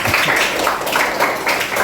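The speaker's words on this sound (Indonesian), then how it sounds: "berikan tepuk tangan sekali lagi" A classroom of students claps together in a short, steady burst of applause, fairly loud and close, with no voices over it.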